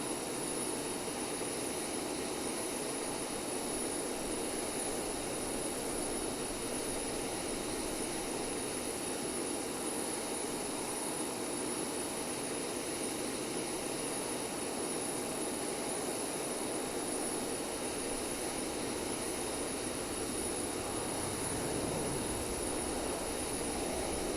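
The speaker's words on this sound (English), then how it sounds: "I'll turn down the sound for the aircraft" Steady, loud jet engine roar from a simulated Boeing 737-800 in X-Plane 11, a continuous broadband hum with constant tonal whine, unchanging throughout with no talk.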